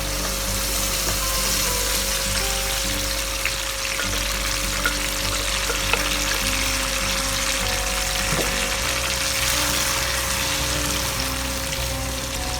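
Blended tomatoes hit hot oil with curry leaves in a wok while cooking chicken achari, giving a loud, steady sizzle and crackle with occasional stirring scrapes throughout, no voice.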